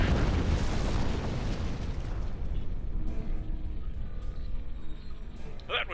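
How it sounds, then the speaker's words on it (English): A starship blows up in the space game Star Trek Online, a loud broadband blast that rumbles and decays over several seconds, with faint game sounds trailing after. "That was quite an explosion."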